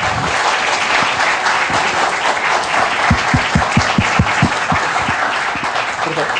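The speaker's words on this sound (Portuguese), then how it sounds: "Gostaria de pedir uma salva de palmas e agradecer ao Manuel" An audience at a bridge-engineering lecture bursts into sustained applause, a dense, loud wash of many hands clapping, with a few distinct nearby claps standing out midway.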